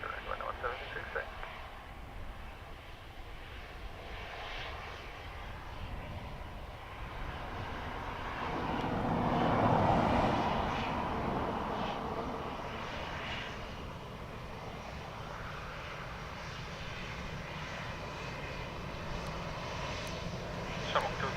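An airliner engine rumbles at Dublin Airport as planes move about the ground, a continuous broad roar that swells toward the middle and then eases, with air traffic radio chatter heard faintly beneath.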